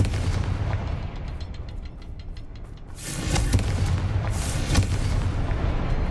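A Confringo fire spell explodes in the video game Hogwarts Legacy, a loud booming blast that swells around the midpoint and rumbles on over dense crackling game noise.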